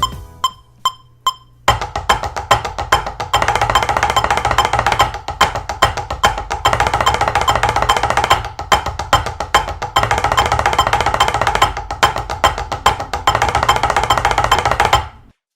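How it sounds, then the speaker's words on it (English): Two drummers split a hand-to-hand rudiment, one taking triplets and the other the upbeats. A few isolated hits open into a dense, steady stream of crisp strokes, loud and close, with no talking. "the completed hand-to-hand will now sound like this"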